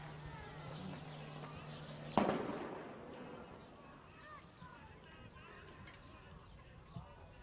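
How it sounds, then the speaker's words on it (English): A stun grenade, or sound bomb, goes off during an army curfew raid in the Palestinian territories, a single sharp blast that rings out and decays over a second amid faint background noise and distant voices. "It's a sound bomb."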